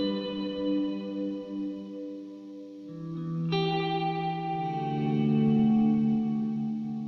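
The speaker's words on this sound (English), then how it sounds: "This first one is the stereo wet reverb from the company that starts with an N" Guitar played through a modulated stereo reverb pedal: sustained, shimmering chords swell up and ring out with a wide, wet reverb tail, then a new chord arrives midway and blooms slowly, with no voices.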